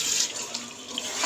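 Water poured from a tap-like stream into onion masala cooking in a pan for chicken shorba, a steady close splashing wash lasting about a second, with no talk over it.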